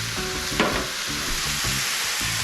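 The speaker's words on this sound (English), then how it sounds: "I'm getting that butter melted now" Butter melting in a pan on the stove for cooking mutton snapper, a steady close sizzle and crackle with a brief louder pop partway through and no talking.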